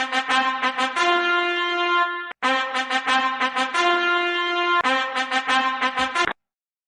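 A bright brass horn plays a quick, punchy melody of short repeated notes and held tones, in two phrases separated by a brief gap.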